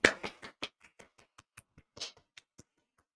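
Scattered applause from a comedy audience starts with a few quick, close claps and thins into slower, fainter claps that die out.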